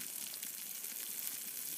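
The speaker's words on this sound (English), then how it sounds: "you can hear the mushrooms sizzling" Mushrooms frying over a slow-burning campfire wood pile, giving a faint, steady, crackly hiss that runs throughout.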